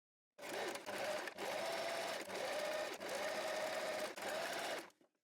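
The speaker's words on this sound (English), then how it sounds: "So we head to the sewing machine and stitch along this diagonal line" A sewing machine stitches a diagonal line across fabric, its needle rattling in a fast, steady rhythm through several long bursts separated by brief pauses, close and clear before stopping.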